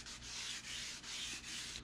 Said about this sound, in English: when I was done sanding the surface of the tread, I pulled the sandpaper off the block